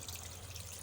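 A kitchen tap runs steadily for a brief moment while chicken for shawarma is washed under it, a soft, even rush of water without pauses.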